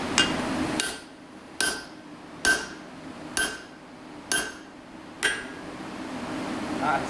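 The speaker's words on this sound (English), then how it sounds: "so I'm like at 12 hammer blows right now" Seven sharp metallic hammer strikes on a metal punch ring out at a steady pace, each a bright clink with a short ringing decay over a low background rumble.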